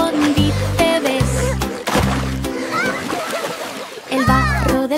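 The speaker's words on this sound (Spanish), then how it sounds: "Chapoteo, chapoteo, chapoteo en una masa fangosa." Cartoon-style wet splashes of a pig in mud repeat in a bouncy rhythm within a children's nursery song, with sung vocals and bass notes over them.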